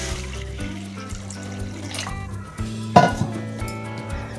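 Water is poured into a cooking pot for a Bengali cabbage kofta curry, a soft trickling stream over a low kitchen hum, with a brief splash partway through.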